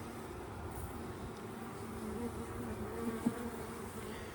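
A steady, low buzzing hum of many honey bees at a hive, including nurse bees, continuous and fairly quiet, with no voices.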